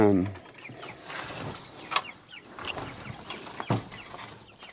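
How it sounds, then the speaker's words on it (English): Soft clucks and peeps from an Orpington chick come in scattered bursts nearby, with a brief voice at the very start. "there's a little chicken, a little Orpington"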